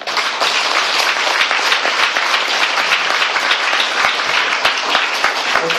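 Audience applause at a talk, dense steady clapping from a crowd lasting several seconds, loud and continuous with no voice over it.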